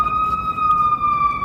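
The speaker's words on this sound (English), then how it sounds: "Oh, sirens. Where's the sirens?" Emergency vehicle siren wailing in a Chicago city street, a steady loud tone with strong harmonics sweeping slightly, continuous over low traffic rumble.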